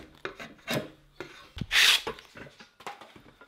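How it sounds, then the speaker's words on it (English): A rasp files the tips of a Pacific yew wood recurve self bow: close, scratchy, irregular strokes, one longer and louder, separated by brief pauses. "A rasp comes in handy to refine those lines and get right down to them."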